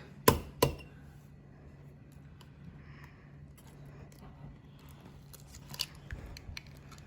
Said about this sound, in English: Let's see if we can break the egg into the cup. Give it a good crack.